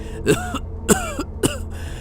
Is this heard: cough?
yes